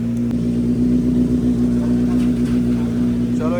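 A KTM Duke 390 motorcycle engine runs at a steady, low idle after a cold start, a constant close rumble throughout.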